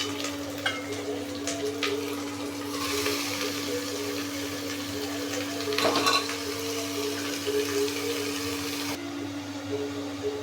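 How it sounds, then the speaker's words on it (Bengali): Ginger and garlic fry in a pan with a steady hiss and sizzle over a constant low hum, broken by occasional scraping and clinks of a utensil against the pan. "আদা রসুনটা এদিকে ভাজা ভাজা হয়ে এসেছে"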